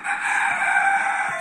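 Badia chickens give a loud, steady wash of clucking and crowing close by, an unbroken flock chorus with no talking.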